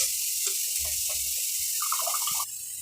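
Tap water runs in a sink as soaked rice is rinsed in a home kitchen, a steady splashing stream with small clinks and sloshes of grains and bowl throughout.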